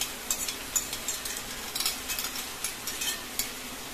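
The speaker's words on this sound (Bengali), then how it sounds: "এটা দেবো এখন, কষাবো মশলাটা ইঁচড়ের সঙ্গে" Spice paste being stir-fried with young jackfruit for echor chingri, a steady sizzle with frequent quick scraping and clicking strokes of the spoon, close and continuous with no speech.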